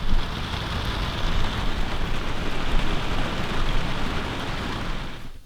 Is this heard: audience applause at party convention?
no